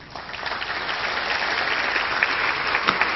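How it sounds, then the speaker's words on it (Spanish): An audience at a book presentation in Lima claps steadily, dense and fairly close applause that holds throughout without talk. "Un fuerte aplauso para él."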